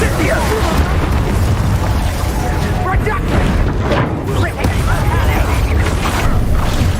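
An Incendio fire spell in Hogwarts Legacy erupts with loud rumbling booms and crackling bursts in a busy combat scene, dense and continuous with heavy low-end.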